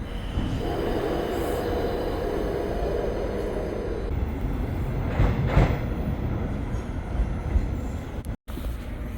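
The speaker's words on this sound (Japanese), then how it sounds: "今回ずっと回送電車が止まっており、反対ホームが見づらい状況なのは少し残念でした。" A steady low rumble of an out-of-service train idling at a platform, with a constant hum and a brief whoosh midway, no voices.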